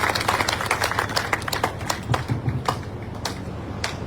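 Crowd applause welcoming Satish Gajraj, BJP Kisan Morcha Rajasthan spokesperson, at a gathering in Nawalgarh: dense, steady clapping of many hands, fairly close and continuous throughout, with no voices over it.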